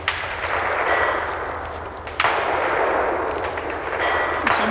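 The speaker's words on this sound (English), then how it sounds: "Good news is they're shooting that away, not this way." Distant gunfire echoes from over a mountain at a campsite, heard as a few faint sharp cracks with a long rolling reverberation outdoors, no talking.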